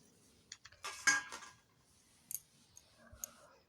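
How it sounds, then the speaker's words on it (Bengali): Potatoes grated on a hand grater give a short cluster of close scraping strokes and clinks, followed by scattered quieter ticks and pauses. "দুটো আলু চুন্নির সাহায্যে আমি চুড়ে নিচ্ছি"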